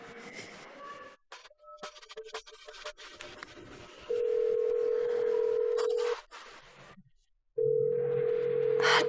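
A telephone call on a handset gives a short dial tone, a few faint dialing tones, then two long steady ringback tones separated by a brief gap.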